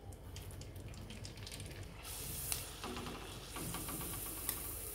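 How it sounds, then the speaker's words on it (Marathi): Sabudana potato chakli frying in hot oil, a steady sizzling hiss that carries through the whole stretch with a couple of sharp crackles and pops, with no talk over it. "आपण ती तेलात तळून पाहूया."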